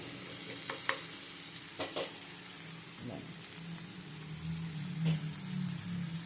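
Ridge gourd, chana dal and soft-cooked tomato frying in a pan, a gentle sizzle with scattered spatula scrapes and stirring clicks, fairly quiet and close, with a brief murmur of voice.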